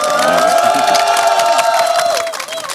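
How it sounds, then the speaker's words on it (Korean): A large crowd at a candlelight rally in Yeouido, Seoul, claps and cheers loudly and steadily, with voices shouting together over a dense wash of applause that dips near the end. "그래서 박수를 한번 다시 치고요."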